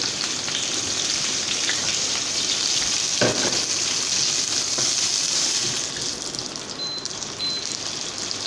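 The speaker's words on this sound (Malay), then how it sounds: "kita tumis sehingga naik bau okay" Onions and chili sauté in hot oil in a pot for hostel-style chicken tom yam. A loud, steady sizzle carries the whole time, with a brief stirring scrape in the middle and a slight drop in intensity toward the end.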